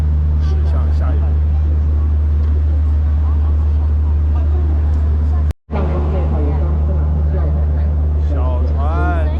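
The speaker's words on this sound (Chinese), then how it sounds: "升船机驶向下游。" The Three Gorges Dam ship lift on the Yangtze lowers a cruise ship downstream, giving a loud, steady low machinery drone that cuts out briefly, with faint voices in the background.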